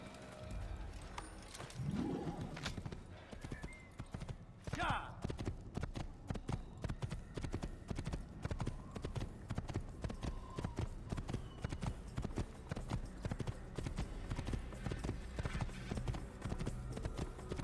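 Horse hooves clip-clop in Assassin's Creed as a mount trots along a steady, rhythmic run of close hoof beats. There are a few brief whinny-like sounds near the start, over a soft game backdrop.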